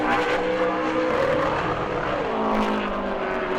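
A super late model race car qualifying at New Smyrna, its engine roaring loudly close by, the pitch sweeping down as it passes and then holding a strong, sustained howl.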